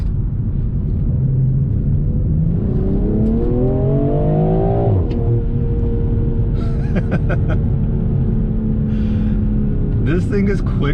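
BMW M340i xDrive (2020) in Sport Plus mode pulling hard, a steady loud engine drone with rising pitch sweeps through the gears, then a shift and settling rumble with some faint clicks near the end.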